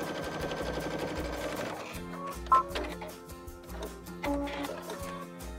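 A Baby Lock Crescendo sewing machine stitches quickly through four layers of a quilt, guided along the presser foot edge. It makes a steady, close, rapid mechanical chatter with slight shifts in pace and no talking.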